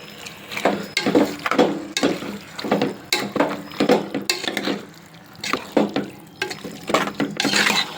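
Irregular scraping and clanking as cut tomato pieces are stirred into spicy mutton curry in a pan, with wet, sloppy strokes repeating steadily throughout.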